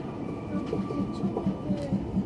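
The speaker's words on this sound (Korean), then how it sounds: "우리열차 대천역에 도착하고 있습니다." The West Gold Train pulls into Daecheon station on the Janghang Line, heard from inside the carriage. A low rumble carries a rhythmic clack of wheels on the rails, under a steady hum.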